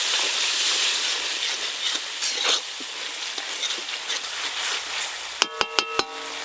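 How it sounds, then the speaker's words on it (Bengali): Spice paste of cumin and dried red chilli for a rohu fish curry fries with a little water in a pan, a steady soft sizzle, followed by a few sharp clinks of a utensil at the end. "অল্প একটু জল দিয়ে মশলাটা আর একটু ভালো করে কষে নেব।"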